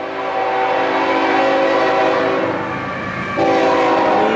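CN freight train M356, led by locomotive 2993, passes at Ladysmith, its air horn sounding in loud sustained blasts over the steady roar and rumble of the rolling cars.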